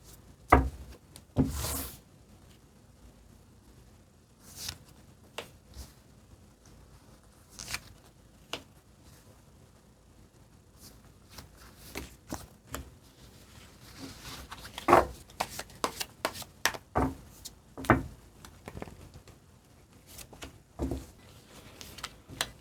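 Tarot cards being shuffled and handled in a quiet room, giving scattered sharp riffles and flicks in short bursts separated by near silence.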